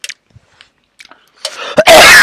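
A single sharp, loud cough or throat-clearing bursts out near the end after a few faint clicks and breaths, close to the microphone.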